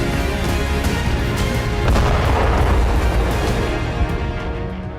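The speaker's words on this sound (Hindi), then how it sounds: "क्रेमलिन पर हुआ यह धमाका" An explosion at the Kremlin in Moscow: a dense, roaring blast of broadband noise that swells around the middle and rumbles on steadily, loud and sustained, with no voices.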